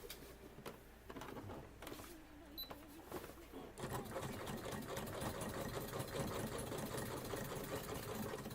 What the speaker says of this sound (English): So now we just go ahead and top stitch that shit